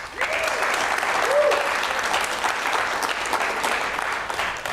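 An audience at a live Seattle City Council District 3 candidates' debate claps steadily and loudly throughout. A voice speaks briefly over the applause.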